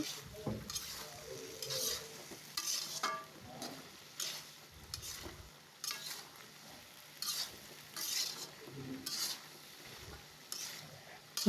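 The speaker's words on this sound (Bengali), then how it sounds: "তো আমার তরকারিটা কষার মতন হয়ে গেছে আমি এখন লাড়া দিয়ে দিতেছি" A spoon stirs thickening curry in a cooking pot, making quiet, intermittent scraping and shuffling bursts with short pauses between strokes, heard close and alone.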